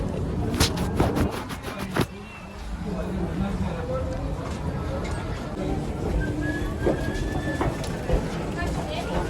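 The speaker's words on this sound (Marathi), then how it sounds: "संभाजीनगर रेल्वे स्टेशन म्हणजे फुल गर्दी" A crowded Sambhajinagar railway station, with a dense wash of crowd babble and echoing ambient rumble, sharp clanks in the first two seconds, then a steady busy hubbub.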